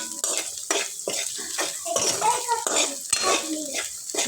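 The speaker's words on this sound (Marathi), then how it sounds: "आता यात बटाटे घालून घेऊ बटाटे घातल्याने पुन्हा एकदा व्यवस्थित मिक्स करून घेऊ" A spoon scrapes and clatters in a pan as potatoes are stirred into fried onions, a steady series of metallic scrapes with a soft sizzle of oil underneath, close and fairly loud, with no talk.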